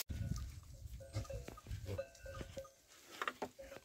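A herd of goats tended by a goat dog outdoors, with repeated bleats and short calls from several animals at varying distances, interspersed with scuffling and patter.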